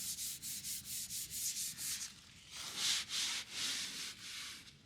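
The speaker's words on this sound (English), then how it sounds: "But we got this sanded down." Rhythmic back-and-forth scrubbing as gloss is sanded off white paint on a truck body, close and faint, a steady series of hissing strokes with a brief pause midway, no voices.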